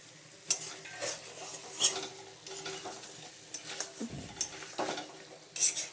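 Potatoes stirred into a drying meat curry in a pan, with a soft sizzle under repeated scraping and clinks of a spoon against metal, close and without speech.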